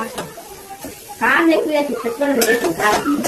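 Chopped tomato hits a hot pan of oil for a fish curry and bursts into loud, steady sizzling that continues with stirring, while a person talks over the cooking.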